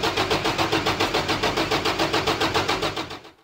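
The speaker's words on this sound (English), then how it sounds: "So what we can do now is crank over the truck and see what kind of measurements we have." A truck engine cranks over on the starter with a steady, loud, rhythmic chug of about six beats per second for three seconds, then winds down and stops.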